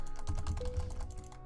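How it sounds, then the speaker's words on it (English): Rapid, furious mouse clicking on a computer while playing the video game Eurgava Fight for Haaria, a quick close-up run of crisp taps with no voices. "you guys can hear me furiously clicking and nothing happens"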